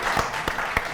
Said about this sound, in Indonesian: Oke, tepuk tangan dong sekali lagi.